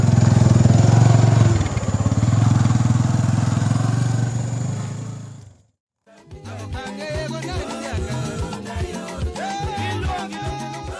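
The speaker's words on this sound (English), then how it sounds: "We ordered 2 motorbikes from Chikapa and traveled 50 kilometers through the bush." Two motorbikes ridden along a 50-kilometre bush track in Congo, engines droning steadily and loudly for about five seconds before the sound cuts out and music takes over.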